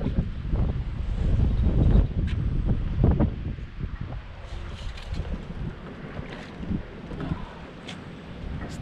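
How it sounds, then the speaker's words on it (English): Wind gusting by a lake rumbles hard against the microphone, loud buffeting in the first few seconds that eases into a lighter, uneven rush, with faint clicks and knocks of fishing gear. "It's kind of windy"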